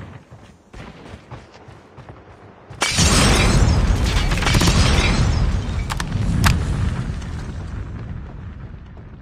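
Grenade blast in Call of Duty Mobile gameplay: scattered gunfire and clicks, then a sudden loud boom that swells into a long rumbling roar with crackling debris, slowly easing off.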